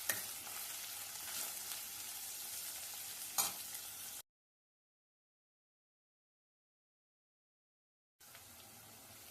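Crushed garlic and curry leaves frying in hot oil, a steady close sizzle with a sharp stir or clatter partway, then a silent gap of about four seconds before the sizzling resumes.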